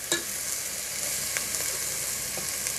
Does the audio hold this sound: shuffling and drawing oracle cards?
no